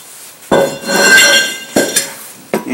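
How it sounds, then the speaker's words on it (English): Brake drums pulled off the rear of a Dodge RAM 1500 pickup, giving three sharp metallic clanks with a bright ringing decay, close and loud, and no voices. "Next, remove both brake drums."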